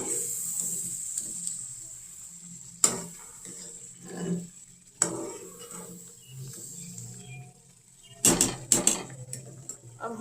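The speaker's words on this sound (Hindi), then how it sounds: "हमने इसे चलाना है ताकि हमारा दही इसके अंदर फटे ना।" Yogurt being stirred into chicken kadai in a pot, with a few sharp clanks of a spoon against the metal and quiet scraping between them, close up and without talk.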